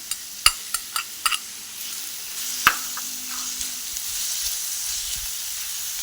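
Garlic and a chopped tomato sauté in a pan for asparagus-leaf soup, a steady soft sizzle broken by several sharp spoon clicks and scrapes early on, close and alone with no talk.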